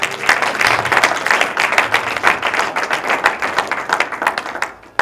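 A church congregation applauds during a sermon, with dense, sustained clapping from many hands that fills the room at steady volume before tapering off near the end.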